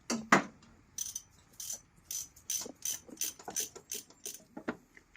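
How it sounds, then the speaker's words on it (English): A torque wrench being zeroed, a series of short, crisp ratchet clicks in quick bursts, close and clear, with no talking. "Zeroing the torque wrench?"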